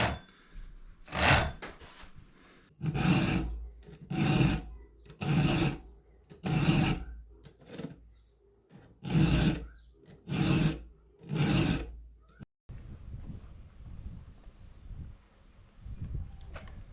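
A file rasps across the teeth of a chainsaw chain in about nine steady, evenly spaced strokes, close and loud, followed by a quieter scraping stretch.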